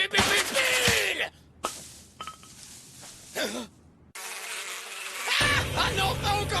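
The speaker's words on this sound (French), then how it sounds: "Ah non, pas encore les abeilles" Insect-like buzzing swells and fades in bursts over a few seconds, with gaps of near silence between, fairly close and moderately loud.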